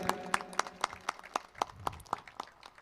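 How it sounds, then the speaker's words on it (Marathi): About a dozen evenly spaced claps ring out at an opening ceremony for a sports league, a small, sparse round of applause rather than a large crowd. "जोरदार टाळ्या यांच्यासाठी."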